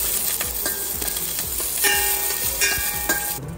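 Raw whole spices dropped into hot olive oil in a pan for a biryani, a loud close sizzle with rhythmic stirring scrapes repeating about twice a second, no talking.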